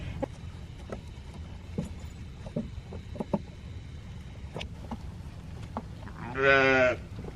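A Katahdin hair sheep gives one loud, close bleat near the end, after several seconds of faint outdoor rustling and scattered knocks.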